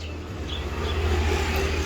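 A Yamaha Vega ZR motorcycle engine runs close by with a steady low rumble that rises slightly in intensity, heard alone without talk.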